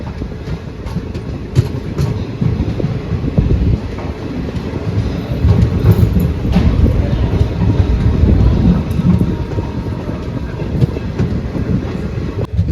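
The Khandesh Express from Dadar to Bhusawal rolls along the rails, a loud, continuous rumble with rhythmic clickety-clack and wind buffeting the microphone, heard close from aboard.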